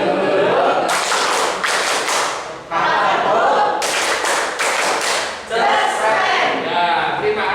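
A classroom group performs the rhythmic 'tepuk martabak' clapping game, loud unison claps in several bursts separated by short pauses, close and alone.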